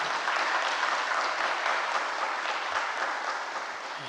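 A church congregation gathered for a Daegu union assembly claps warmly, a dense even wash of applause that holds steady and fades slightly toward the end, with no speech over it.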